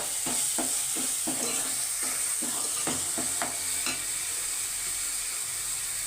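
Masala paste fries in oil for a sea fish curry while a spoon scrapes the pan in a regular rhythm, the knocks sitting over a constant close hiss of sizzling.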